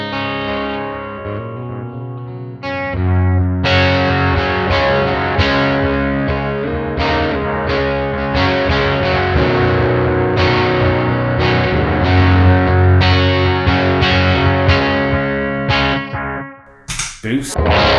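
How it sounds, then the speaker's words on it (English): An electric guitar runs through a Mooer Preamp Live with analog echo engaged, playing sustained distorted chords and notes that ring with trailing repeats, loud and alone after a short quiet opening, cutting off abruptly near the end. "this time we've got an analog echo on."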